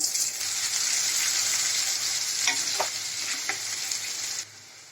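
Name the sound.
bay leaf, dried chillies and chopped onion frying in oil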